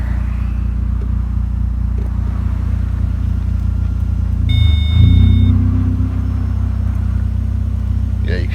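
A car with its wheels raised gives a steady, loud low drivetrain rumble as the clutch is lifted, with a brief swell and a whining tone partway through, while people talk over it.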